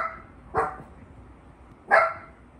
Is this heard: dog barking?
yes